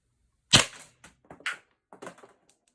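A Pepperball TCP launcher fires Byrna kinetic projectiles outdoors: one sharp loud pop followed by several smaller snaps and thuds of hits, spaced irregularly over a couple of seconds against near silence.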